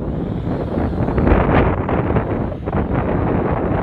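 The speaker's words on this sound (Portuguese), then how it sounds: "Nossa, que vendaval, brother." Strong gusting wind buffeting a microphone outdoors during a DJI Mavic Pro drone flight, a loud continuous low rumble that swells and eases over several seconds.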